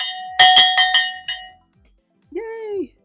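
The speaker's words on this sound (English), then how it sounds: "So we're going to ring our bell." A handheld bell rung to mark finishing a savings challenge: several bright metallic clangs in quick succession, close and loud, decaying into silence, followed by a brief high voice.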